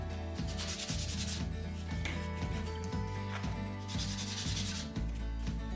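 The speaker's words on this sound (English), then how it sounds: "hold the piece and hold the sandpaper and move the piece back and forth on it" A small laser-cut wooden piece is rubbed back and forth on sandpaper, making close, rhythmic scratchy sanding strokes that repeat steadily with no speech.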